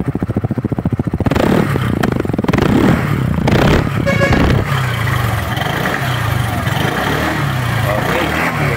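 A 2024 Motorstar ADV 175 fuel-injected scooter engine starting up and running on a tiled floor indoors, loud and close, with a rev, some clatter and scraping, then a steady idle.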